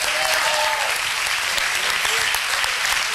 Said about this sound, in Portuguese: Vamos aplaudir ao Rei.